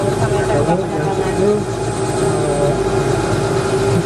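A helicopter flying over Bali makes a steady, loud cabin drone with a continuous rotor hum that fills the whole clip without pause.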